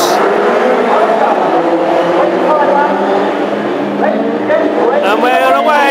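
Classic hot rod race cars roar off the start of a 25-lap Midland Championship final at Northampton, a loud dense wall of engines revving together, with an announcer talking over the din.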